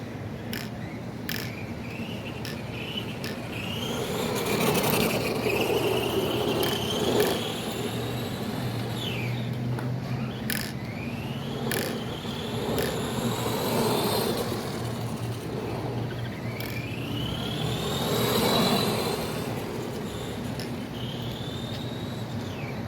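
A brushed Arrma Granite 4x4 1/10 scale RC truck at full throttle, a whining electric motor and drivetrain that rises and falls in pitch as it passes, alongside clicking and chirping in a steady outdoor background.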